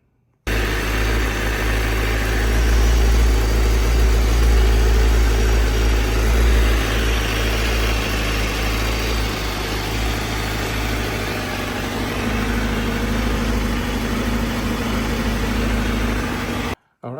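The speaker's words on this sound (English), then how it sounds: "I'm going to start the engine, let it run for about a minute or 2" A 2025 Honda CBR1000RR-R Fireblade SP sport motorcycle engine idles nearby with a steady, even hum that holds for a long stretch before cutting off abruptly at the end.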